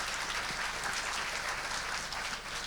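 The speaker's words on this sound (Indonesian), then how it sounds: "Tepuk tangan buat Tuhan Yesus." Faint, steady applause from a church congregation during an Indonesian-language sermon service, a soft even wash of clapping heard at a distance with no speech.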